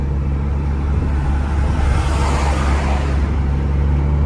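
A 1996 Honda Civic with a 1.4 engine accelerates on the road, producing a steady loud drone of engine and road noise with a low hum throughout and no talking.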